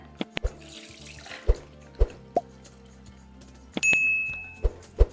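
Water drains from soaked flattened rice (aval) in a strainer set over a bowl, with wet drips, plops and clinks, then a short burst of pouring and splashing, close by and with no talk.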